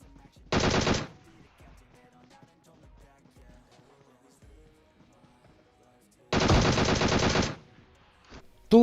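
Machine gun fire in the mobile battle royale game PUBG Mobile, two loud rapid bursts, one short and one lasting over a second, separated by quiet stretches of faint game sounds.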